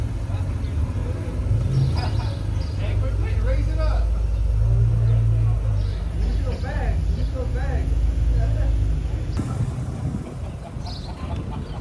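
At a Cars and Coffee meet, car engines idle and rumble low and close as vehicles roll in, with a steady motor drone under people talking nearby.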